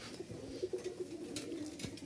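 Rajshahi Giribaz pigeons coo softly and repeatedly nearby, a steady run of low throaty calls over faint background noise.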